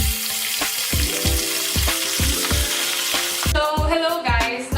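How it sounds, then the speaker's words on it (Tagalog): Chicken, boiled first, frying in hot oil: a loud, constant sizzle and crackle close by, with regular low thumps throughout and a brighter hiss near the end. "After boiling for 45 minutes, we're going to put the chicken into the oil"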